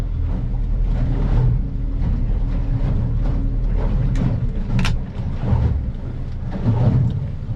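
A Stabicraft boat's outboard engine runs steadily on open water, a continuous low drone mixed with wind buffeting and water wash, with no talking over it.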